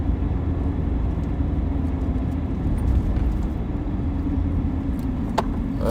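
Steady road rumble and engine drone from inside a car driving toward West Knoxville, Tennessee, a continuous loud hum with faint ticks and rattles and no talking.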